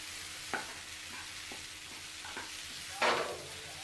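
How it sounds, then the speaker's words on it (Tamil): Tomatoes with cashews and salt sautéing in a pan, a soft steady sizzle broken by occasional spoon scrapes and one louder stirring clatter near the end, with no voices. "கடைசியாக கொஞ்சமாக உப்பு சேர்த்து தக்காளி நல்ல நையிற அளவுக்கு வதக்கிக்கோங்க"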